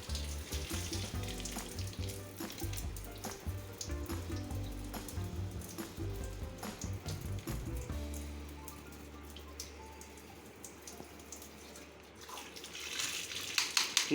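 Water flows and splashes steadily through the pipe of an Aquaguard Enhance NXT RO purifier as its filters are replaced, a continuous close hiss and patter, easing off partway through and returning louder at the end.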